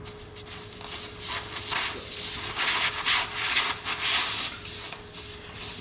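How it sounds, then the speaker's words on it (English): A reamer tool forced straight down into a tire puncture hole gives a steady rasping, rubbing grind with repeated strokes and a faint constant whine underneath, close and moderately loud. "This is the reamer tool. You want to push this in here,"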